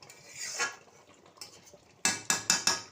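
A spoon stirs chicken and potato curry in a metal pot: a soft scrape early on, then a quick series of four sharp clanks against the pot's side, close and without talk.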